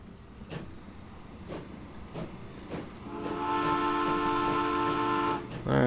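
An oil freight train in the Transport Fever game, with a few spaced clanks as it rolls, then a sustained whistle-like tone building for the last few seconds, fairly loud and with no talking.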